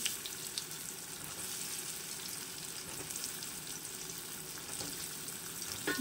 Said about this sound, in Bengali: ওলগুলো আমি একটু ভেজে নেব